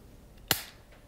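A handmade weapon fires once, a single sharp snapping crack with a short fading tail amid quiet background.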